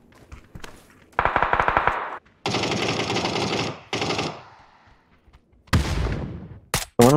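Automatic gunfire from a video game weapon, with several loud sustained bursts of rapid shots separated by short pauses, ending in a few sharp closer single shots.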